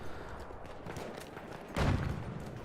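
Video-game gunshots ring out in a bright burst near the end, a single loud shot or short cluster over an otherwise busy, low game soundscape.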